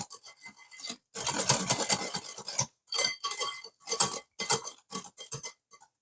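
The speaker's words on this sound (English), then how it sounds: "I'm going to use my hand whisk to finish this" Hand whisk clattering through blueberry cake batter in a bowl, a rapid run of metallic clicks and scrapes in uneven bursts with short pauses between strokes, close and fairly loud with no voices.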